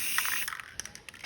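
Aerosol spray paint can hissing in short bursts at close range while painting a sunset on a sheet, one longer spray followed by several quick puffs, no talking.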